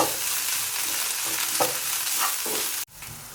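Onion with garlic powder, ginger, pepper and salt frying in a pan, a steady close sizzle with occasional stirring scrapes, cutting off abruptly near the end.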